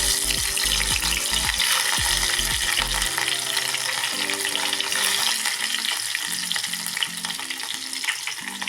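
Green chillies hit hot oil in a frying pan for sabudana khichadi, a loud, continuous crackling sizzle that fills the whole stretch, with low musical tones running underneath and no talking.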